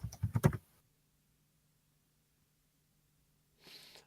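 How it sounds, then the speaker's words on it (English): Fast, furious typing on a computer keyboard, a quick burst of clustered keystrokes at the start, fairly close, then quiet with a faint hum and a brief soft rustle near the end. "There's furious typing going on."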